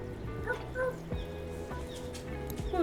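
A small dog in the Tiny Bookshop video game yips and whimpers in a few short, fairly close bursts over steady game music.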